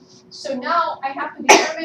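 A single sharp sneeze bursts out near the end, following a stretch of someone talking in a classroom-like setting.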